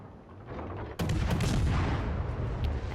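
A heavy naval gun shot booms from the ship Gdansk in a naval warship game, a sudden loud blast about a second in that rolls into a sustained rumbling roar over steady background ambience.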